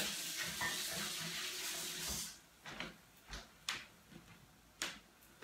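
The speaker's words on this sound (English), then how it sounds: "And I'm just going to quickly wash my hands." Kitchen tap running steadily for a couple of seconds while hands are washed at a sink during home burger cooking, then stopping, followed by a few light knocks and clicks.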